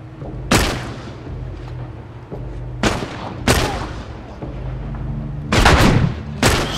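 Gunfire in the video game The Last of Us, five loud booming shots spaced irregularly about a second apart, each with a sharp crack and decaying rumble over low background noise.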